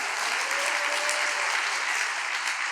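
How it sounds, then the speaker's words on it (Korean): Thankful applause from a congregation at a special all-night prayer vigil, a steady, even wash of many hands clapping with no break, heard at moderate volume without talk. "감사의 박수를 한번 올려주시면 좋겠습니다"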